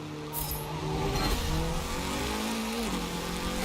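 Turbocharged car engine in Forza Motorsport 7 during a drift session, a continuous revving drone with rising and falling pitch as the engine works through the revs, fairly loud and steady with no talking.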